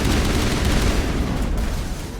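Heavy, continuous gunfire and blasts in a Mass Effect firefight against human enemies, loud and dense throughout with no talk over it, tapering slightly at the end.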